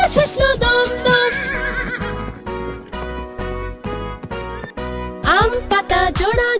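A horse whinnies loudly with rising and falling cries, at the start and again near the end, set against a rhythmic, tonal backing in between.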